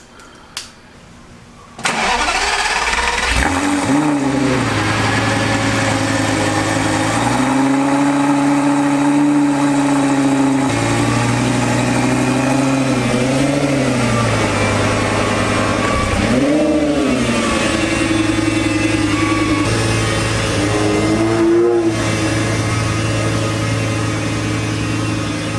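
A 700hp Toyota Supra engine cranks and fires up, then settles into a loud, close idle with repeated rises and falls in revs as the car backs out.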